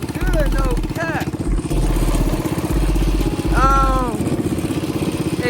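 A motorcycle fitted with a Mikuni carburetor runs at highway speed, its engine a loud, steady buzzing drone close by, with a rider's voice talking over it.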